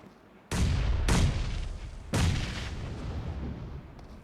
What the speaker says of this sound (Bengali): যথেষ্টভাবে কভার ফায়ার দেওয়ার চেষ্টা করছে এখানে